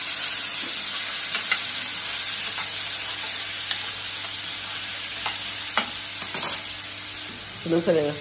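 Tomato and potato roast and fry in a pan for a dried green pea curry, giving a continuous even sizzle with scattered spatula scrapes and knocks, plus a brief bubbling spurt near the end.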